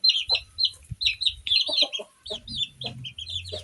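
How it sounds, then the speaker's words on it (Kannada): A hen clucks repeatedly while looking for a place to lay an egg, with a run of close, irregular squawks and clucks and soft low thumps between them. "ನೋಡಿ ಆ ಕೋಳಿಗೆ ಮೊಟ್ಟೆ ಬಂದದೆ, ಮೊಟ್ಟೆ ಇಡೋಕ್ಕೆ ಜಾಗ ಹರಿಸ್ತದೆ"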